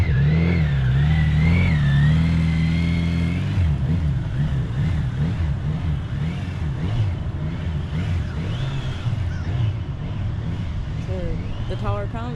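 A motorcycle engine revs and shifts pitch as the bike is ridden through a cone test course, rising and falling steadily throughout at close range, with a rider talking over it.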